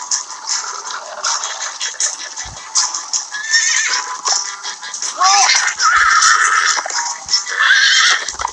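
Loud, shrill horse whinnies in Minecraft: Story Mode ring out repeatedly over a bed of hoofbeats and game sound effects, close and energetic from start to finish.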